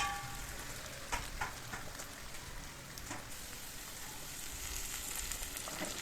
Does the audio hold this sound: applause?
no